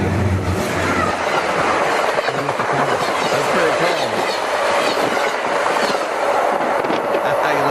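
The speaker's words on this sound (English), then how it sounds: "He's yelling train." A subway train rushes past at close range, a loud continuous roar of wheels and rail noise with clattering and squeal filling the whole stretch, voices faintly under it.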